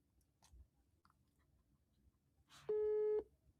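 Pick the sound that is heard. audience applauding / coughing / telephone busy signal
telephone busy signal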